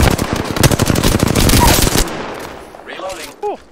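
Rapid automatic gunfire from the Apex Legends shooter game, a dense sustained burst of close, loud shots for about two seconds, then quieter game sounds and a short chirping effect near the end.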